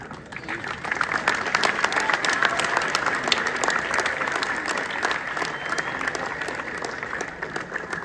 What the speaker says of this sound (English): Let's give a thunderous applause while the balloons will be released into the air